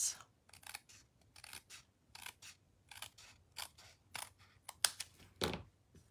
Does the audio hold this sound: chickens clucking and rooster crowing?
no